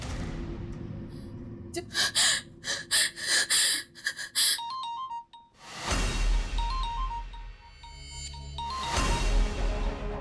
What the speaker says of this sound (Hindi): नो नो नो, निखिल का फोन नहीं हो सकता